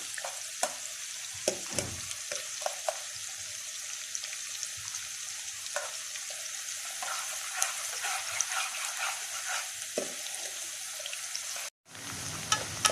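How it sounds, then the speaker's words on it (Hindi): A steady sizzle of onion and garlic frying in a pan, with occasional stirring clatters and scrapes, close and continuous. "प्याज और लहसुन फ्राई होना शुरू हो गया है।"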